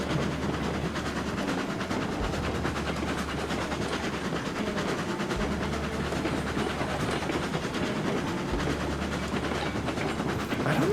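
A video game train runs steadily and loudly with continuous rumble and rhythmic clickety-clack of wheels over rails, no talking.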